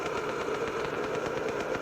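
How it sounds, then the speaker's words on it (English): A 1958 static electricity machine gives off a continuous crackling buzz of small electric sparks, faint and steady throughout, with no talking. "And of course you can hear the crackling."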